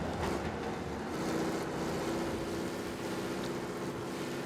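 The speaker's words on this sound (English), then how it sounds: "Even the sound of the car is not where it used to be." A steady race car engine drone in Mafia: Definitive Edition hums continuously at moderate level, a low rumbling motor sound without pauses or voices, the engine heating up.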